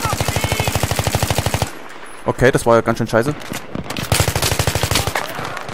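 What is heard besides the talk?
gunfire hitting nearby in the video game Battlefield 3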